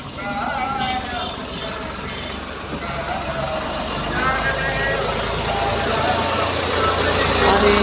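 A tractor idles at a walking pilgrimage procession on its way to Pandharpur, giving a steady low engine rumble under constant crowd noise and nearby voices talking.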